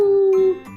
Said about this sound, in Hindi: जंगल में सियारों की टोलियां